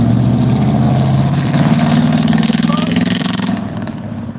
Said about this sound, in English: Got a truck with good exhaust going on right now.